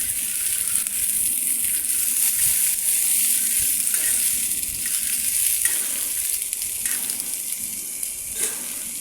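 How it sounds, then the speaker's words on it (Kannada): Tomatoes and green chillies fry on a tawa with a loud, continuous hiss and crackle, with occasional stirring scrapes running through it. "ತವಾನಲ್ಲಿ ಟೊಮೆಟೊ, ಹಸಿಮೆಣಸು ಹಾಕಿ ಫ್ರೈ ಮಾಡಬೇಕು"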